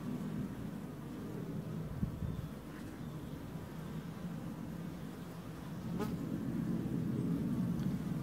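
Honeybees buzz around busy hives in August, bringing in pollen, a steady low droning hum of many bees with occasional louder passes close by, swelling slightly toward the end.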